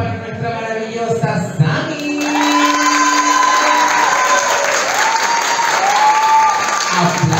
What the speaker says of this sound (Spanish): Aplausos para nuestra maravillosa